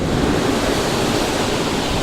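Ocean waves break on rocks near a lighthouse, a steady, dense roar of surf and spray that fills the whole stretch without pause, loud and close, with some wind buffeting and no voices.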